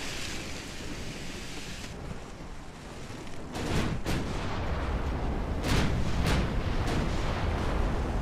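Fifteen-inch naval guns fire in a battleship video game, heavy booms rolling over a constant roar of sea and wind, with several sharp blasts in the second half.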